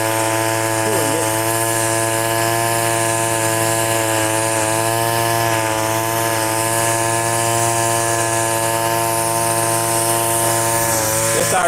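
A string trimmer with .80 line cutting a lawn gives a close, steady engine buzz. The whine holds for the whole stretch, with only slight dips in pitch.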